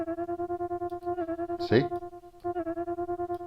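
A sine-wave synth patch on the Imaginando FRMS app plays sustained notes pulsed by an LFO with its phase set to key, a steady throbbing tremolo that restarts with each key press; a voice briefly speaks mid-way.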